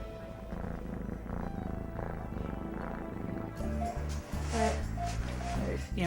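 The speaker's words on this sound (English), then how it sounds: "And now he's purring up a storm." A kitten at an animal shelter purrs steadily in a low rumbling rhythm up close, and a person speaks softly over the purring in the second half.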